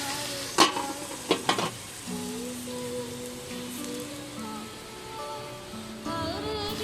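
Eggplant and tomato pieces frying in a pan, with a few sharp stirring clacks early on over a steady soft sizzle that continues throughout, and faint tonal background sounds.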